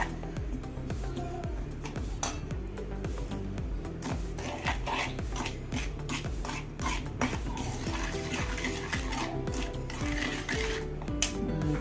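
Raw mango pickle being stirred with salt in a bowl, a steady run of clinking, scraping utensil knocks against the dish, close and continuous with no talking.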